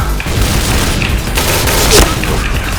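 Heavy, powerful gunfire in a shooting video game, loud booming shots in a dense volley with a sharper blast near the end, under faint talk.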